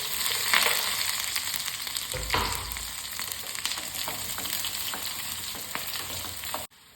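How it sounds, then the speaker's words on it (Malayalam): Mustard seeds, onion and green chili fry in hot coconut oil, giving a steady crackling sizzle with a few brief stirring knocks. The sound cuts off abruptly near the end. "നമുക്കിതിലേക്ക് കടുക് ഇട്ട് കൊടുക്കാം കേട്ടോ ഉള്ളി പച്ചമുളക് ഇട്ട് കൊടുക്കാം"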